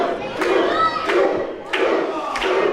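A pro wrestling crowd at an East Coast event roars and chants in steady loud waves, rising in rhythmic bursts with shouted cries that swell and dip across the arena.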